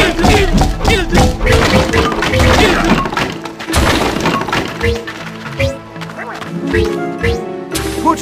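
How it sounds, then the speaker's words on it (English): A barrel blast clears a rock slide in the GameCube game Tak 2: The Staff of Dreams, loud crashing and cracking debris with thuds over game music, fading into scattered smaller impacts. "Put a barrel down next to the rock slide to blow it away."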